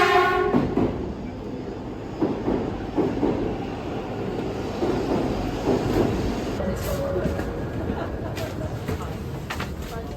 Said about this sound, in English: There's our bullet train.